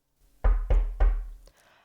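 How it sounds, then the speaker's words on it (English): Three firm knocks on a wooden cottage door, close and evenly spaced, followed by a brief softer tap and quiet. "Aria stepped up onto the front porch and knocked on the wooden door."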